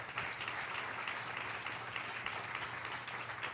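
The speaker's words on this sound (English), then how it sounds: "And you deserve a round of applause as trailblazers." Faint, distant applause from a conference audience honoring trailblazers in higher education equity, an even continuous patter of many hands with a low hum underneath.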